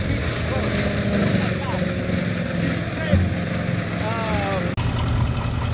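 A tractor engine runs steadily while loaded with maize silage during silage making, a constant mid-loud drone with brief voices over it.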